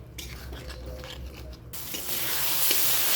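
Spice paste for a magur fish curry fries in a pan, first as a muted crackle, then a sudden louder, steady sizzling hiss that fills the rest of the moment.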